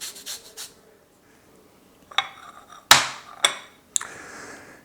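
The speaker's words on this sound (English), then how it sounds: "we'll go ahead and start the process of zesting our tangerines" Tangerines are zested with a zester, giving a series of short, sharp scraping strokes, a few quiet ones followed by louder, crisper scrapes close up in an otherwise quiet kitchen.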